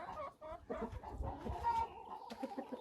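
Faverolles hen and rooster with an old Marans hen cluck inside a coop house, a run of close, soft overlapping clucks and low murmuring calls that rise and fall.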